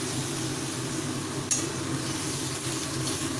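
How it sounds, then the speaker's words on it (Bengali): A spoon stirs a spice mixture into onion masala in a pan on low heat, with a soft steady sizzle, scraping strokes and one brief clink of metal against the pan. "এবারে পুরো মশলাটাকে ভালোভাবে পেঁয়াজের মশলাটার সাথে আস্তে আস্তে, দেখতেই পাচ্ছেন, এইভাবে পুরোটাকে মিক্স করে দেব।"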